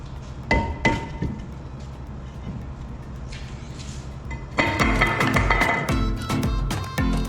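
A rubber mallet strikes a stuck aluminum wheel rim on a car having new Zimmermann rotors fitted: a couple of sharp knocks early, then a denser run of loud, clattering blows with metallic ringing toward the end.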